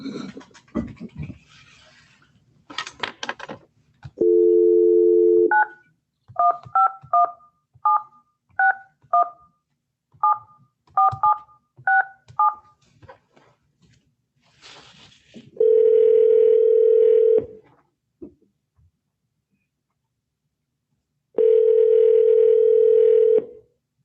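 Telephone keypad tones as a number is dialed, a rapid run of short DTMF beeps after some handling noise, followed by two long steady ringback tones with a pause between, loud and close.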